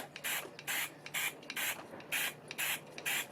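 An acrylic spray can hisses in repeated short bursts, about eight rhythmic sprays close by, each separated by a brief pause.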